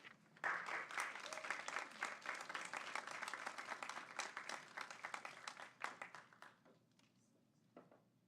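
An audience applauds to welcome panel guests at a public talk, a sustained burst of many hands clapping that holds steady for several seconds before thinning out and fading at the end.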